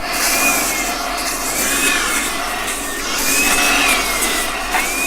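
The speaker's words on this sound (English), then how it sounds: "I'm going to take a blower or some compressed air, and I'm going to remove all this dirt and blow it outside." A blower or compressed air clearing dirt from a Marvin window frame: a loud, continuous rushing whoosh that holds steady at close range, with slight swells in pitch.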